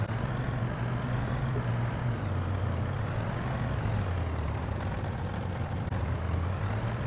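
A truck in Farming Simulator 23 heading to a wheat field to collect grain, a steady low engine drone and road rumble droning without a break, with a few faint clicks and no talk.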